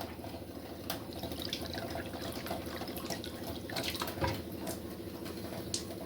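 Water pouring steadily into a pot of pongal, a running splashing stream with a few clinks, fairly quiet and close.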